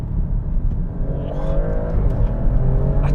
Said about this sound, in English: you also get a rasp every time you go up through the gears or go down through the gears